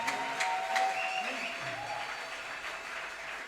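A church congregation claps and cheers at a worship service, a moderate, fairly steady spread of applause mixed with voices and a few brief tonal calls, somewhat distant and diffuse.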